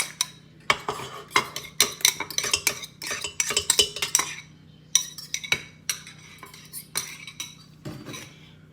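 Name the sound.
beating eggs into banana nut bread batter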